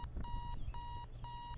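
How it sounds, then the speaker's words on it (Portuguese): An alarm clock in the video game Postal 2 rings in three rapid electronic beeping bursts over a low background hum, clear and alone. "Olha o alarme."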